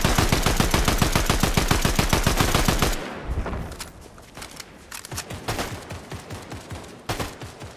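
Fortnite gunfire: a fast, loud burst of automatic shots in an even rhythm for about three seconds, then scattered, sharper single shots and short bursts, with no voices.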